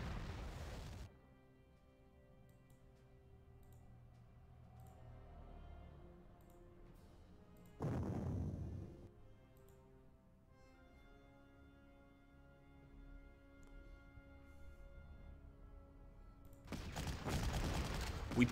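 Units opening fire in the Panzer Corps war strategy game: three separate bursts of booming gunfire and explosions, spaced several seconds apart, with soft game music in between.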